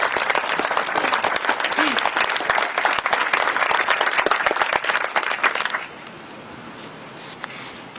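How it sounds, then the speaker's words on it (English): At a City of Revere Memorial Day service, an outdoor crowd gives loud, sustained applause for a reader, then it stops abruptly, leaving faint ambient quiet. "let's give a special round of applause for Camellia, please."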